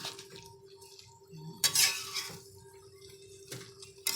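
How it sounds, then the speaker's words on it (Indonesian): A spoon stirs spicy young papaya stew in a pot, giving soft scraping with a few clinks against the pot. The sound is quiet and close. "kita aduk besti"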